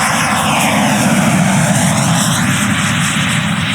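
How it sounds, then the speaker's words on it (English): An electric ducted fan jet, a 370-gram motor on a 3 kW JetFan-110 Viper model, runs hard at high power, a loud continuous whining roar with a steady high tone, close and without talk. "This motor is 370 grams motor and I'm pushing it a little bit too much"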